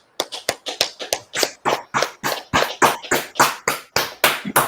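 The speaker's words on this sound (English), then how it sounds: "All right, clap it up." A small group claps in a quick, steady rhythm, each clap sharp and close, with no voices over it.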